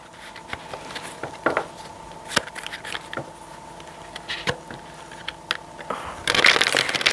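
Oracle cards being shuffled by hand in a quiet room, giving soft irregular riffling patters with a brief busier flurry near the end.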